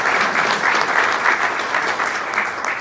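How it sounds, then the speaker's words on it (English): A warm round of applause from the audience at the 2023 NCHSAA basketball championship coach introductions, honoring Chatham Charter's head coach; steady dense clapping fills the hall for about three seconds without talk. "a warm round of applause for Chatham Charter head coach Jeffrey Patterson"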